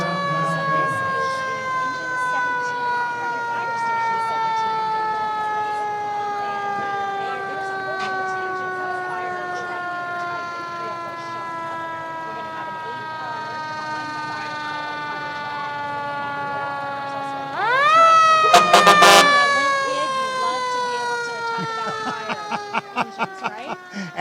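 Engine 17, a fire engine leading a Fourth of July parade in downtown Edmonds, wails a long, loud rising and falling mechanical siren, swelling sharply near the end before short blasts, with talking faintly underneath.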